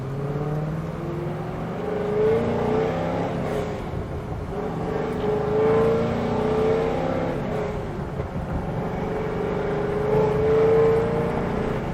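An F-Body car accelerates hard with repeated engine revs that rise and fall, breaking off between gear changes as it downshifts, loud and close from inside the car.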